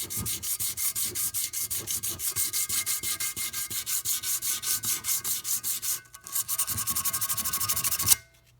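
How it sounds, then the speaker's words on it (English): Hand sanding scrubs tough gasket buildup off a metal engine sealing surface in fast, rhythmic back-and-forth strokes, close and steady, with a brief pause partway through before stopping abruptly. "This area right here where we have a lot of buildup, that mostly will just sand off."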